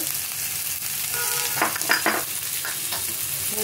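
Salt and turmeric powder frying in a hot pan with a steady, dense sizzle and occasional stirring scrapes, loud and continuous throughout with no talk.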